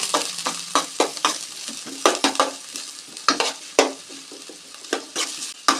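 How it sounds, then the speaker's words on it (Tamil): Onions sizzle and fry in oil in a pan while a spoon scrapes and stirs them in quick, uneven strokes, loud and close. "வெங்காயம் கண்ணாடி பதத்துக்கு வதங்கட்டுங்க"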